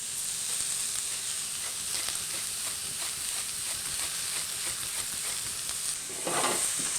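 Grated green squash and onion frying in a pan, a steady moderate sizzle with light stirring and scraping throughout, a brief louder rustle of movement near the end.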